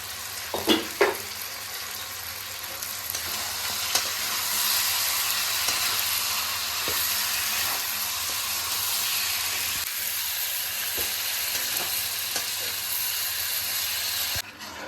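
Potatoes and cashews frying in a pan, with a loud, continuous sizzle and hiss and occasional stirring knocks, and no voices.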